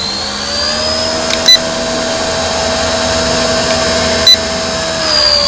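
The rotors of a WLtoys K170 Black Hawk RC helicopter spin with a steady, loud electric whine and whir close by. Two brief clicks break the tone.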